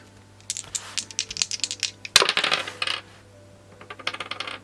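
Small dice rattling and tumbling on a hard surface in quick clattering bursts, with a sharp impact near the middle and a second run of rattles at the end, close and fairly loud, no speech.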